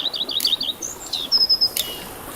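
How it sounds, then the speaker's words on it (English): Birdsong in The Witcher 3 game: a run of quick high chirps, then a sustained trilling call, with two brief broadband clicks between them and no talking, over a quiet ambient bed. "birds chirping"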